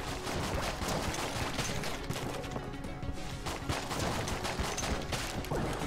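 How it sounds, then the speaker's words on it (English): A man cannon firing in Enter the Gungeon co-op play, a dense, steady stream of shots and crashing impacts that runs continuously, loud and busy throughout with no talk. "Oh, it's my cannon. Oh, it bends off walls. It blows up."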